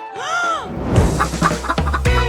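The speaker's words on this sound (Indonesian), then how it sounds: "aku punya ayam di sini" A chicken clucks with a few rising and falling calls, then scratchy, rustling noises follow at close range in a cooking-challenge setting.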